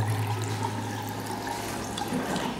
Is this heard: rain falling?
no